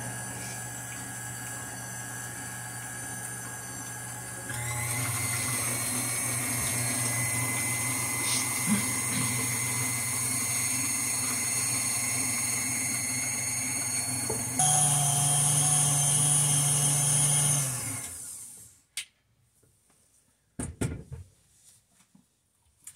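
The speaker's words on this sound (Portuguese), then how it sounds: "Devagarinho vai aumentando a velocidade da batedeira." An electric mixer beats sponge-cake batter, its motor whine stepping up in speed twice before cutting off, followed by a few faint knocks.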